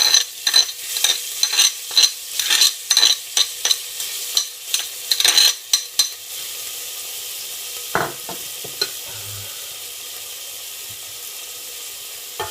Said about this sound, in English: I'll start by adding in the chilli, garlic and ginger.